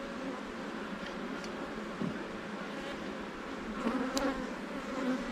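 Honeybees in an open hive, a dense continuous buzz of many bees close by, steady and moderately loud, with no talk.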